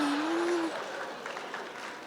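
Studio audience applause at a stand-up comedy competition, a dense patter of clapping at moderate level that fades gradually over about two seconds, with a brief tonal whistle near the start.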